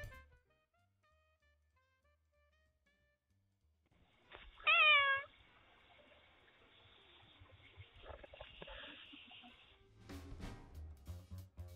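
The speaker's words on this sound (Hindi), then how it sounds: "उसकी म्याऊं ऐसी थी जैसे उसने मॉम कहा हो।" A cat gives a single short, clear meow near the middle, after near-silence, followed by steady faint background noise and some soft rustling toward the end.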